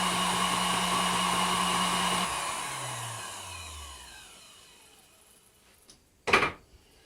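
Honey extractor spinning at its top variable-speed setting, a loud steady whirring drone that abruptly cuts off and winds down with a falling hum as the drum slows, followed by quiet and a short clunk near the end.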